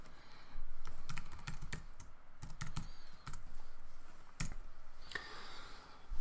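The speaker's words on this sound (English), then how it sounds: "When you type ver dot followed by a tab" Close, quiet typing on a computer keyboard while working in Jupyter Notebook, with irregular bursts of key clicks and a few sharper single taps, and no talk.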